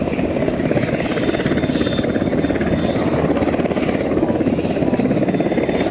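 A toy fire rescue helicopter gives off a loud, steady buzzing rotor whir with rapid fluttering pulses, running continuously and close up.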